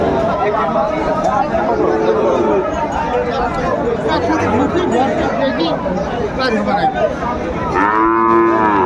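Sahiwal bull calves at a Meherpur cattle market lowing loudly and repeatedly, with a long bellow near the end, over continuous crowd chatter and nearby talking.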